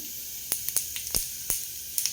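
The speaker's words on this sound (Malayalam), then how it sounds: "1 ടേബിൾ സ്പൂൺ വെളിച്ചെണ്ണ ഒഴിച്ചു. അതിലേക്ക് പെരുംജീരകം" Fennel seeds sizzling in a tablespoon of hot coconut oil in a pan, with brief sharp crackling pops over a soft continuous hiss.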